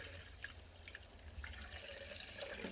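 Homemade Mexican-style beer draining from a keg, a faint steady trickle with scattered drips over a low hum, with no talk.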